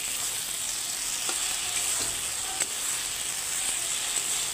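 Okra with green chillies fries in a pan with a steady, loud hiss of sizzling. Occasional soft scrapes of a spatula come through as it is stirred, and no one speaks.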